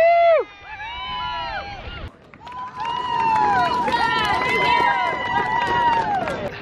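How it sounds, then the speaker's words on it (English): Crowd cheering and shouting at the finish of a tough epic adventure race, a steady roar of voices with whistles and high calls, loud and close, after a brief earlier burst of voices. "I think they were cheering that girl there"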